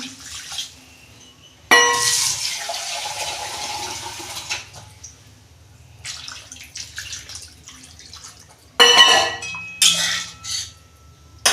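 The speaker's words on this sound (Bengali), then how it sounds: "কষানো হয়ে গেছে, আমি জল দিচ্ছি।" Water is poured into a pan of vegetable curry in a home kitchen, splashing and sizzling in several bursts separated by quieter stretches, with no talking.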